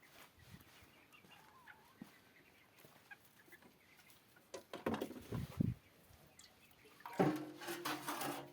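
Chicks peep faintly and a hen clucks in short bursts nearby, soft scattered calls growing into a louder flurry of clucking and peeping toward the end.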